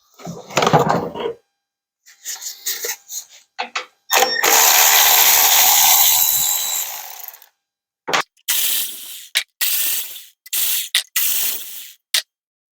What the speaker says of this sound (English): Now you want to remove the 4 bolts holding the 4 ignition coils.